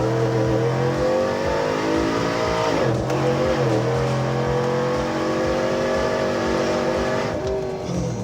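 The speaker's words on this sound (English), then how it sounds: "All right, let's test out the acceleration." A 2016 Chevrolet Silverado Dirt King pickup accelerating hard from inside the cab: a loud, continuous engine roar climbing in pitch, dropping briefly at gear shifts around three and seven seconds, then pulling up again.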